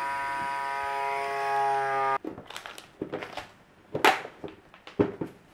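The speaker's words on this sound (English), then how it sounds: "just vacuum up your steaks" A vacuum sealer hums with a steady electric drone for about two seconds while sealing sirloin steaks, then stops, followed by scattered crinkling and clicking of plastic being handled.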